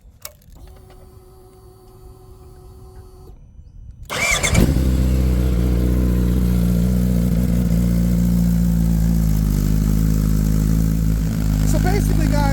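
A Suzuki Hayabusa motorcycle fires up after a few seconds of faint mechanical whine and settles into a loud, steady, throbbing idle that runs close by to the end.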